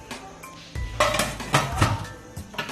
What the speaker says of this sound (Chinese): 先放电饭锅里面蒸，把它这个口蒸开就可以了。